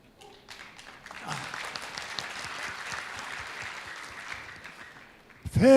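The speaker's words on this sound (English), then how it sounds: "a big round of applause and welcome Past District Governor William Zhang on the stage" Audience applause at a Rotary event as Past District Governor William Zhang is welcomed onto the stage, swelling from a few early claps into sustained, dense clapping from a large room, then tapering before a loud thump at the end.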